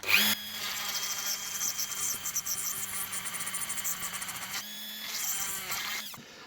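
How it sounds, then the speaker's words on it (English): A Dremel with a diamond bit grinds excess metal from drilled holes while repairing an antique pistol, a high steady whine close by with fluttering pulses, stopping briefly before spinning up again. "I can take that excess out with the diamond bit on a Dremel"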